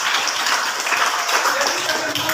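Hands clapping in a classroom lesson on citizens' rights and duties, a dense, loud burst of applause from a group that continues steadily for a couple of seconds, near and without talk.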